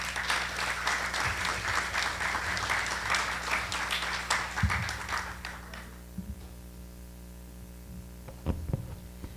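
A forum audience breaks into applause that lasts about six seconds and then fades, leaving a low hum and a few scattered thumps.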